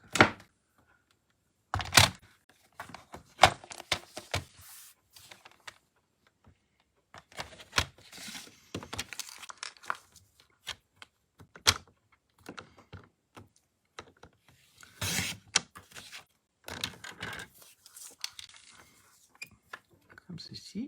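Paper being cut around a pop-up card makes soft, irregular snips and crisp clicks in scattered bursts with quiet gaps, with a low voice murmuring faintly at times.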